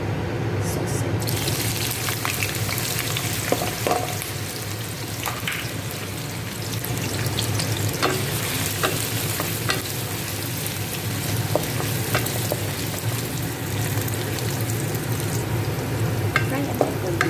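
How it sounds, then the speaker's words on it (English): Sausage fries in a few spoonfuls of cooking oil, a loud, continuous close-up sizzle like steady rain, with occasional faint clicks and scrapes across the whole stretch. "then we will fry the"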